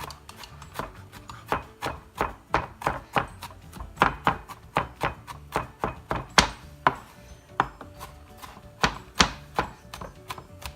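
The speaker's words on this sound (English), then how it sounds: "I like to rock the knife back and forth through" A kitchen knife chops garlic on a cutting board with a rapid run of crisp, close taps in an uneven rocking rhythm, with no voice over it.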